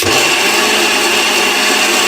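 A mixer grinder whirs loudly and steadily for a couple of seconds while grinding a smooth paste for a gravy, a dense continuous motor whine with no voices.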